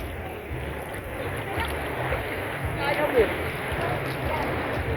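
Sea waves wash and slap against a boat on a sea crossing, a steady rushing noise with wind and engine rumble, while people talk over it.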